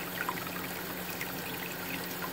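Warm water pouring steadily over a baby savannah monitor during its bath, a continuous close splashing trickle with no talk over it.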